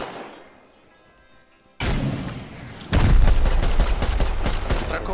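Explosive charges going off during a raid in the video game Rust: a quiet stretch, then a sudden loud blast followed by a heavier, sustained rumble of detonations and rapid crackling impacts.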